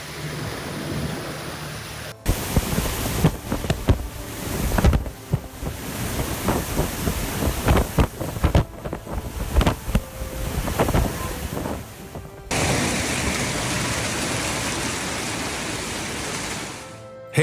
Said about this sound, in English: flash floods swallowed the highway, stranding vehicles and terrifying scenes of nature's fury